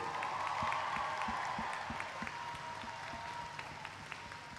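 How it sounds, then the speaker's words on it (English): Applause fills a graduation ceremony hall for Space Camp and Aviation Challenge, steady and moderately distant, with a few sharper individual claps and a sustained crowd wash that slowly fades. "Let's give one more big round of applause."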